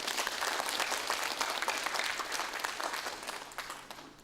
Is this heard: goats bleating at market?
no